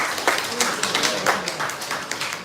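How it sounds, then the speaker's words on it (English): An audience at a holiday reception and donor advisory board installation applauds, with a brief burst of dense, steady clapping from a crowd in an indoor hall. "give Hayden a big round of applause for what we just heard her do"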